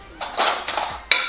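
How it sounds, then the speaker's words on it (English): Fork scraping and clinking against a bowl while stirring dry bannock ingredients (flour, baking powder, salt), a few soft scrapes followed by a sharp metallic tap. "I like to use a fork. Just get all the dry ingredients mixed in."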